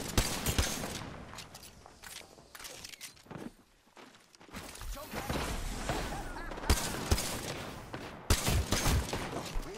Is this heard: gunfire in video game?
yes